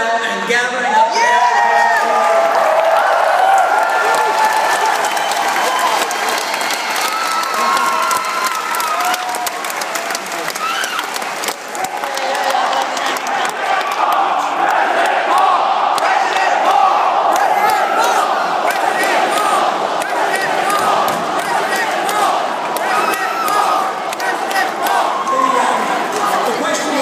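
Large crowd at a Ron Paul campaign rally at Cornell cheering, whooping and applauding loudly and steadily, a dense roar of clapping and shouts that holds for the whole stretch.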